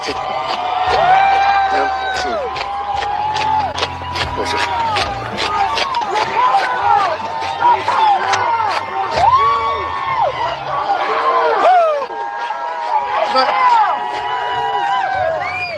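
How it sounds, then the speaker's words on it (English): Street protest crowd cheering and whooping after a killing by ICE agents, a dense mass of shouts and high yells that stays loud throughout, with nearby voices talking through it. "We have huge cheers from the crowd."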